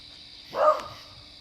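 A dog howls once at night during a lunar eclipse, a single short, rising and falling cry heard from some distance over a quiet background.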